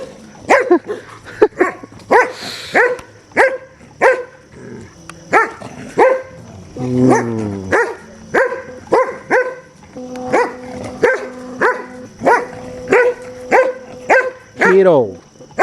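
A dog barks repeatedly in short, lively bursts with yips and whines mixed in, close and loud, like excited play.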